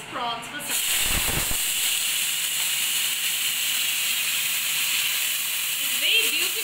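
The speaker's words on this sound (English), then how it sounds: "Heat it with some mustard oil and just fry these prawns for some time." Prawns frying in hot mustard oil in a karai give off a loud, steady hiss and sizzle that holds from start to finish, with brief clatter early on.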